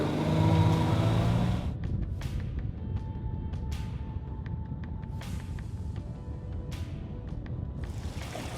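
Suzuki 250 SS motorcycle ridden hard, its engine a steady loud throbbing drone with rising and falling revs, close and continuous under wind rush for the whole stretch.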